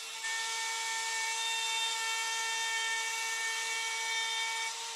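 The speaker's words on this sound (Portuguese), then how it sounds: "Para o corte feminino, ajustei a fresa para cortar cerca de 6 milímetros na bancada," Plunge router cutting into a kitchen countertop in shallow passes, a steady high-pitched motor whine held evenly for several seconds, close and moderately loud.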